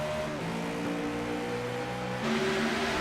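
A NASCAR race car in iRacing accelerates at the green flag, a steady engine drone that climbs in pitch and then jumps louder as it shifts and pulls away.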